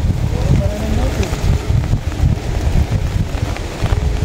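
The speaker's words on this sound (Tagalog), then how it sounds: "Maulan po, malakas po ang hangin dito." Strong wind gusts across a farm plot on a rainy day, a continuous close rumble buffeting the microphone with a steady hiss above it, a voice faintly audible underneath.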